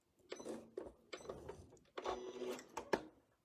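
A sewing machine stitches a curved quilt design in several short, close bursts of whirring needle motion, separated by brief pauses.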